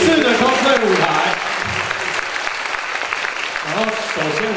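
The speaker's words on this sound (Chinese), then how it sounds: "可以请求大家给他一点掌声鼓励吗" Audience applause for a first-time cosplayer at a cosplay competition on stage, a steady wash of clapping from a crowd with a voice talking over the start and end.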